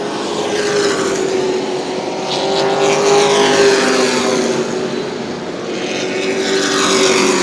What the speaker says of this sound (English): a gaggle of slower cars coming down the front straightaway